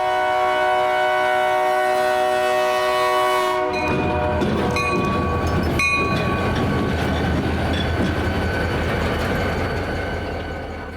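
Pair of BNSF SD40-2 locomotives switching cars in the Golden rail yard: a loud sustained horn blast, then steady heavy diesel rumble with metallic squeals and clanks, close and continuous.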